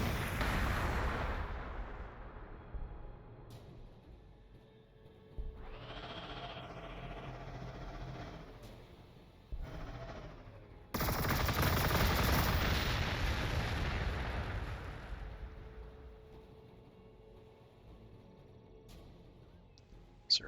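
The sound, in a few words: missiles being fired in video game Warhammer 40,000: Gladius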